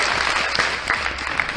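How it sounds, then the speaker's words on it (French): Loud applause and cheering from a small audience during a music freestyle interview, dense and close throughout the short burst, with a few sharp squeaks or whistles poking above it. "des applaudissements pour mes gars, s'il vous plaît"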